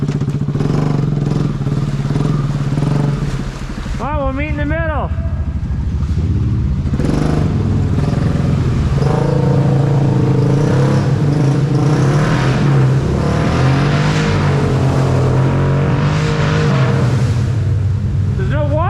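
A Honda Rubicon or Rancher ATV engine runs loudly and close-up as the quad pushes through water inside a large culvert. Splashing and clatter mix with a steady rumble and some revving, and people talk briefly over the noise.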